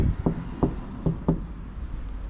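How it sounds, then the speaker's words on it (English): A reception door in Agia Napa, Cyprus gets knocked on: four or five dull taps in a loose rhythm, close but muffled, over steady outdoor background noise. "Give it a little knock"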